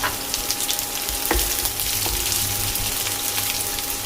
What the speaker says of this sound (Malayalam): കടുക് പൊട്ടി അതിലേക്ക് ചുവന്നുള്ളി ചേർക്കാം